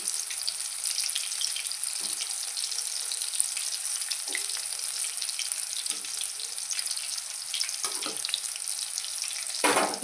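Fish sizzles steadily in hot oil, a constant bright crackling hiss with occasional louder spatters and stirring bumps, close by and with no talking.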